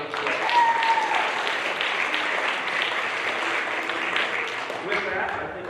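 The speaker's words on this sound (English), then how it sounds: "So give them another round of applause." Steady applause fills a school gym during a fall sports assembly, a broad wash of clapping from the crowd with a few voices mixed in, holding evenly before tapering at the end.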